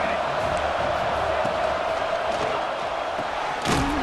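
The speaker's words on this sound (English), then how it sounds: "Listen to this crowd begging its defense to get a stop." A large stadium crowd in a football video game roars in a steady, dense wash of noise, with a brief louder burst near the end.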